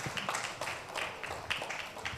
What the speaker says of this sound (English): Please, can I have a round of applause for all my panelists?